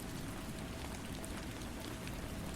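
Gentle rain falling steadily, a soft continuous hiss of drops with no breaks or voices, even and fairly faint throughout.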